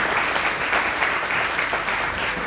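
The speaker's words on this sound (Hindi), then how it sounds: "इसके लिए ताली बजाएं।" An audience breaks into steady, dense applause, a continuous loud wash of many hands clapping with no pause across the whole stretch.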